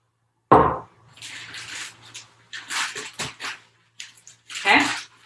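Water pours from a jar onto flour in bursts, a sharp splash at first followed by softer uneven glugging and a final heavier pour.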